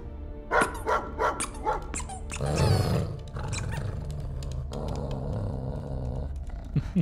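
A dog barks several times in quick succession in Marvel's Guardians of the Galaxy video game, followed by a deep growling roar and a sustained rumbling, with game-like effects and music behind.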